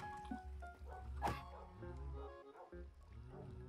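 Minecraft dogs giving short yips and barks with a brief whimper, close and quiet, amid other faint game sounds.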